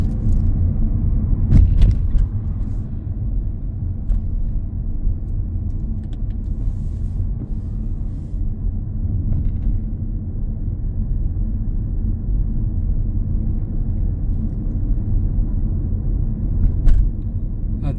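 Car driving along a residential road on a Huddersfield driving test route, a steady low engine and road rumble heard from inside the cabin, with a few brief clicks and knocks near the start.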